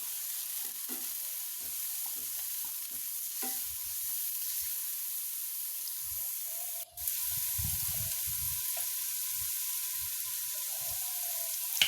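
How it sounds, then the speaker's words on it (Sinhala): Thinly sliced vegetables with curry leaves and chillies sizzle in a pan for vegetable roti filling while a spoon stirs and scrapes through them in a steady rhythm, close and clear, with no talking. "මේකට මම හීනියට කපාගෙන කරපිංචා මිරිස් කරලා මේවත් එකතු කරලා ටිකක් කවලම් කරගන්නවා"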